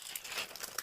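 Tracing paper being folded along a line for a sewing pattern, a faint brief crinkle and crisp rustle heard up close.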